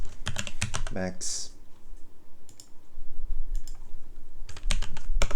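Fingers type on a computer keyboard in quick bursts of close, crisp key clicks, with a brief spoken word in between and a pause before the typing resumes.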